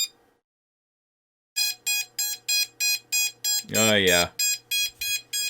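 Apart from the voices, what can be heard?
drone ESC motors beeping when battery plugged in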